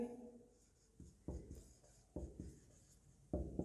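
Chalk or marker strokes on a board during a Hindi-medium Class 10 science lesson on reflection of light, several short scratchy bursts close by and faint, separated by pauses.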